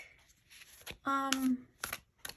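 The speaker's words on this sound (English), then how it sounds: "one thing I want to do with this deck, whoops, is give it a little shuffle" A rose-petal cardstock tarot deck is shuffled by hand, giving brief papery riffles and flicks around a sustained tonal hum, quiet and close.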